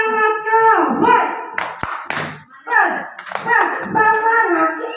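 A group of adults at a school training session performs a tepuk semangat chant, voices calling in unison over short, sharp rhythmic hand claps, close and lively.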